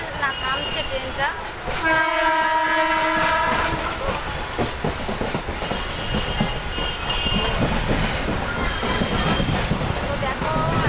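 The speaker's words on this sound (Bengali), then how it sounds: "ভালোই স্পিডে চলছে ট্রেনটা" A passenger train runs at speed with a steady rolling rumble and rhythmic clatter heard from inside the carriage. A clear horn blast sounds early on, and faint voices come and go beneath the noise.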